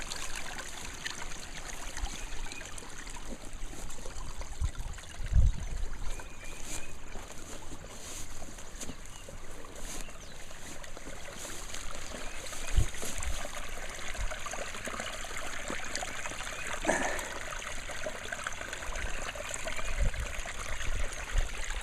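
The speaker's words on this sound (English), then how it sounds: "right here is where the water's going through" Water trickling and flowing through a small stream at the site of an old kitchen, a soft steady burble heard up close with no talking, broken by a few faint knocks and splashes.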